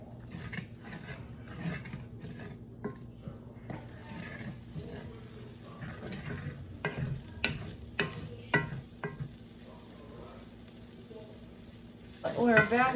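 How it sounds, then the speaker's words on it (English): Chopped bacon browning in a pan over medium heat, a soft crackling sizzle with intermittent stirring and scraping knocks, a louder burst of sizzling at the very end. "We're browning the bacon. We're getting grease in there."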